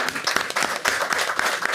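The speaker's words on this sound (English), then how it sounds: "Let's give them another round of applause for a job well done." A school board meeting crowd gives a short burst of applause, a dense patter of individual hand claps at close range with no talking.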